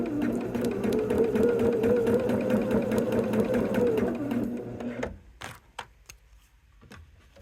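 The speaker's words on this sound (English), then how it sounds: "I'm going to run a line of stitching." A sewing machine stitches a line across a quilt block, its motor whirring in a steady, rapid hum for about five seconds before stopping, followed by a few quiet clicks and handling sounds.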